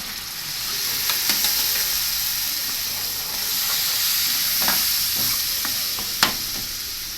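Spices hit hot oil for a pumpkin sabzi, giving a steady close sizzle and frying hiss with a few sharper crackles and stirring clicks scattered through it, no voices.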